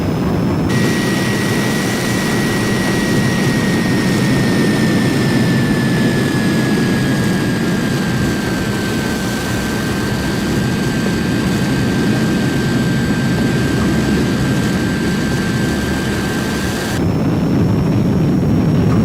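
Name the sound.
Heinkel He 162 jet engine running at increasing power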